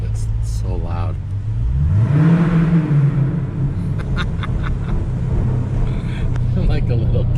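Dodge Challenger 392 V8 fitted with Dynomax Race Bullet mufflers, a loud deep exhaust rumble that rises into a brief rev and then settles into a heavy idle, with someone talking over it.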